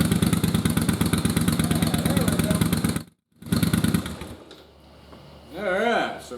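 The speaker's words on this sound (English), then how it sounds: "Let's see if she's gonna fire up on 2 cylinders and play nice" A Yamaha Virago motorcycle, freshly fitted with reinstalled carburetors, fires up and runs on two cylinders, a loud, rapid, steady exhaust pulse lasting about three seconds before cutting out, followed by quieter, irregular noise.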